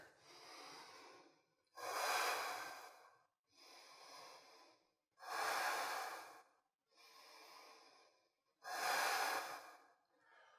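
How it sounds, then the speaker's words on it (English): Slow, deep yoga breaths drawn in and let out through the nose, six long airy swells alternating between stronger and softer, close and quiet with nothing else around. "Another 2 or 3 breaths here."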